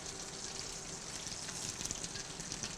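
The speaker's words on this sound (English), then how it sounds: "Nice sizzle." Ground coriander sizzles in melted ghee in a farm kitchen pan, with a soft, steady hiss and fine crackle throughout, heard from close by at low volume.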